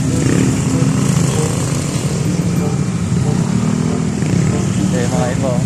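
Motorcycle engines rumble steadily close by, while people talk over the constant engine noise.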